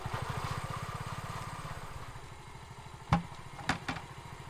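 Motorcycle engine idling, a close, rapid, even putter pulsing steadily, fading slightly, with a few sharp clunks near the end.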